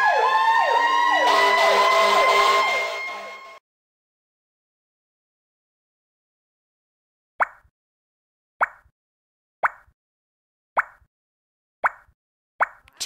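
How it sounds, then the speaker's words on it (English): A fire truck siren from an iPhone shape builder puzzle game wails loudly for about three seconds and then cuts off. After a silence, a steady series of short, bright plops follows. "Fire truck."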